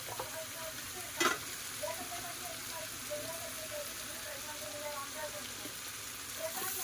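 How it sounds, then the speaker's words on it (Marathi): Onions sauté in a pan for pav bhaji until browned, making a soft, continuous frying sizzle with faint stirring scrapes and one brief clatter early on, with no clear talking. "कांदा चांगला लाल होईपर्यंत परतवून घेऊया."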